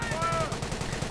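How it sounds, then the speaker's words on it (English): Bren carrier machine gun fire in a World War II strategy video game, a rapid rhythmic burst of shots that is steady and fairly loud over a low rumble. "Brenker charging forwards for King George, opening up on the Panzer grenades, who are now in fact running for their lives."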